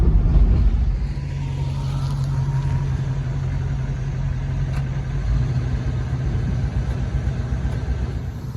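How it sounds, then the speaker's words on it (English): A 1967 Ford Mustang with a newer Holley carburetor idles nearby, a steady low rumbling drone with an even throb that holds for several seconds without talk. "The 67 Mustang is all set, running decent"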